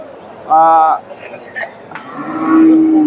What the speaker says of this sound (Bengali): এই যে ফ্রিজিয়ান জাতের গাভী ফ্রিজিয়ান জাতের গাভী